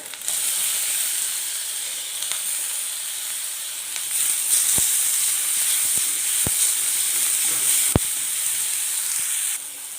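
Tomatoes frying with ginger garlic paste in a pan make a steady, loud sizzle and hiss that runs the whole time, with a few faint clicks from the pan.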